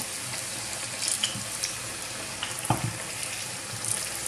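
Onion bhajis fry in hot oil with a steady, soft sizzle and crackle, with a few brief sharper pops and no voices.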